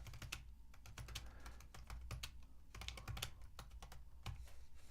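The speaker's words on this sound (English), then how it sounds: "anything I type here" A computer keyboard clatters in rapid, irregular bursts of close, crisp key taps while Python code is typed, with no voice over the faint keystrokes.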